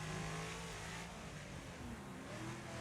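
Race cars in a Wreckfest video game rev and accelerate, their engine pitch rising and falling in a faint, continuous whine under low background noise.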